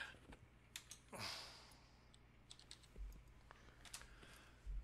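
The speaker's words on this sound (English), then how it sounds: "that's not my best typing." A computer keyboard being typed on gives a faint run of quick, close clicks, bunched into short bursts with pauses, and no voice over them.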